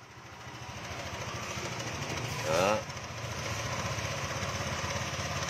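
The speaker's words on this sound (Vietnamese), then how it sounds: "Rồi các bạn nghe động cơ này nhá." Honda Air Blade 2013 scooter with a faulty crankshaft position sensor that keeps stalling, its engine idling steadily and close up with an uneven beat, and a brief louder swell midway as a voice speaks over it.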